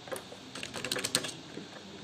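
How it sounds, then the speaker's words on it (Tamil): Typing on a computer keyboard: a quick, irregular run of close, crisp key clicks lasting about two seconds, with no voices. "ஸோ நம்ம டைப் பண்ணிட்டோம்."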